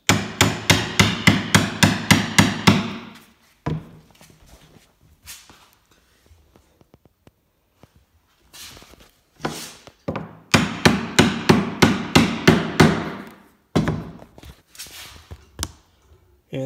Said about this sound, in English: I'll just tap the top with the hammer a few times.